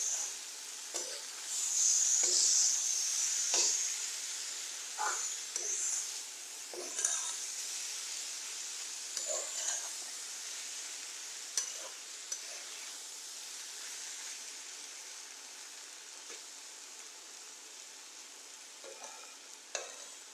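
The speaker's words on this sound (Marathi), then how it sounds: "कोथिंबीर टाकूया, 5 मिनिटं परतून घेऊया।" Paneer bhurji made from curdled milk, with coriander added, sautéing in a pan: a continuous sizzle and fry hiss punctuated by scattered scrapes and clinks of the spatula stirring.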